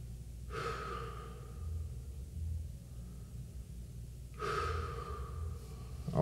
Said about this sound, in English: I just want to get into my breathing cycle and transfer that same air to the instrument.